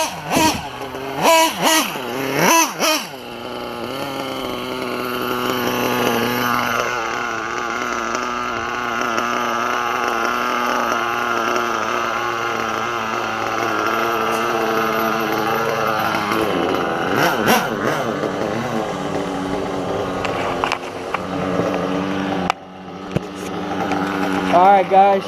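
A Hyper 7 nitro RC car engine screams and revs steadily while running in the rain, a loud buzzing whine that rises and falls for most of the stretch, with short bursts of sharper throttle and a voice speaking briefly.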